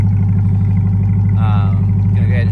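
Chevrolet Corvette C8 with a Corsa Extreme exhaust idling with a deep, loud, pulsing burble close by, holding steady throughout while a person talks briefly over it.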